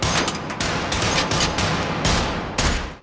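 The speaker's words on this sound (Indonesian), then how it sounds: "Kemudian mereka berlatih menembak untuk menyiapkan diri sebelum aksi perampokan." Rapid bursts of gunfire from shooting practice in a heist film, loud, dense volleys of shots repeating across the clip with short gaps between them.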